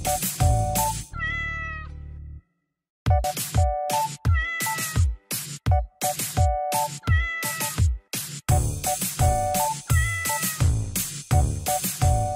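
A cat meows over and over, loud and close, in a steady string of short, tonal calls broken by one brief pause, with no talk over it.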